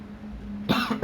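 A single cough that breaks out after a short stretch of quiet room tone, followed by a second brief cough close to the microphone.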